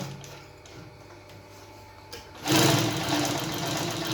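A Pfaff 1245 industrial sewing machine with an enlarged bobbin hook stitches faux leather at a long stitch length. Light ticking comes first, then the motor rises into a loud, fast, steady run for the last second and a half.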